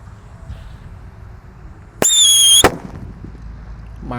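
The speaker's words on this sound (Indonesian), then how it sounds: "Lanjut kita nyalakan mercon yang sering digunakan untuk buntelan kertas." A Black Buster paper firecracker fizzes quietly, then lets out a loud, sharp whistling shriek for about half a second before a bang, with crackle and faint background noise after.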